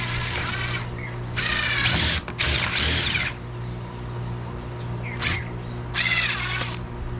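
A power drill bores holes into a wooden backing plate for a kayak steering assembly, whirring in several bursts of a second or so each, loud and close, with quieter pauses between them.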